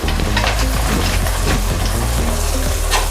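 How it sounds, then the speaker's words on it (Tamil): Rose cookie batter with coconut milk, coated on a metal mould dipped in hot oil, fries with a dense, continuous close-up sizzle and bubbling that stays even throughout, with no voices. "இப்போ நம்ம சட்டியில் போட்டுடலாம். எண்ணெயில் அச்சு நல்லா மூழ்கிற மாதிரி அப்படியே வச்சுருங்க."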